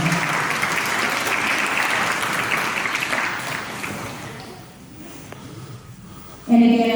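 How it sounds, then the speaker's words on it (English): Audience applause at an autumn Holstein cattle show, a loud dense burst of clapping that fades after a few seconds into quieter room noise, ending with a sudden voice. "So please give a big round of applause."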